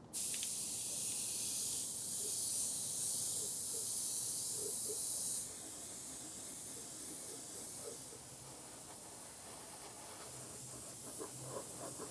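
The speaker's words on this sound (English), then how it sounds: "Got all our masking done, it's time to do the spraying." Steady hiss of an aerosol spray-paint can painting prop kit parts, loud and continuous for about five seconds, then a quieter hissing spray with faint clicks continuing.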